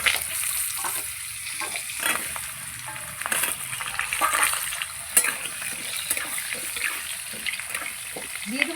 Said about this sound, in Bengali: ফোড়ন হয়ে গেছে, এবার আলু দিয়ে দিচ্ছি।